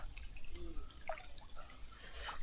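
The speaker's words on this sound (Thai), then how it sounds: "น้ำไหลเกินเนาะ" Water running and dripping outdoors in stormy weather, faint trickling with scattered small drips and splashes, quiet and fairly close.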